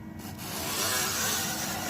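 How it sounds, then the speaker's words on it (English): An Accusharp 001C knife sharpener is dragged along a machete blade, making a steady, close, abrasive rasping scrape that holds for about two seconds without a break. "Press your knife, your sharpener down on the blade of the knife"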